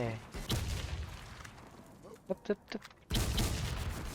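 Gunfire in a shooting video game: dense bursts at the start and end, with a few separate sharp shots in the quieter middle, set against game background noise.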